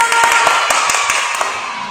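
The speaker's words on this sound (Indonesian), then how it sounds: "Tepuk tangan dong" Children clapping at a Sunday school service, quick sharp claps in an uneven patter over a sustained bright tone, fairly loud and close.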